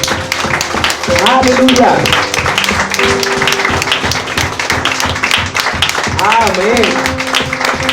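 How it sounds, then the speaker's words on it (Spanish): Congregation clapping and cheering in a church service, a dense, steady wash of applause mixed with shouts and voices through the whole stretch. "Denle un aplauso al Señor."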